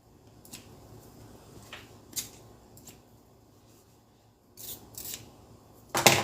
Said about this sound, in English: just trim these little threads